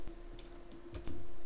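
Text being typed on a computer keyboard, a few sparse, light key clicks spaced irregularly over a low room hum, close and quiet.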